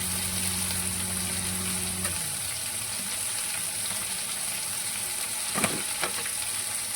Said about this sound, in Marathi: जिरं मस्त फुललं की आपला वाटलेला मसाला त्याच्यामध्ये ऍड करायचा आहे